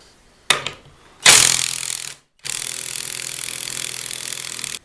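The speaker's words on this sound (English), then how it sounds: "I can now set on the vise and thread in the bolts" Power tool driving bolts into a pre-drilled workbench to mount a woodworking vise, with a brief knock, then a loud whirring burst and a steady sustained run after a short pause, close by.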